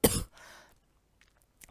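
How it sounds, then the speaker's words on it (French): A person coughs once, sharp and close, followed by a short breathy throat sound, then near silence with faint small noises. "du coup ça me fait tousser"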